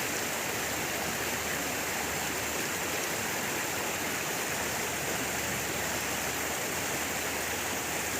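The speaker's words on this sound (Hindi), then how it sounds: "ये मंदाकिनी के कलकल की आवाज़ आपको चारों तरफ से आ रही है।" The Mandakini river flows near Chitrakoot Dham in a steady, dense rushing murmur that fills the surroundings, continuous and fairly loud with no break and no talking.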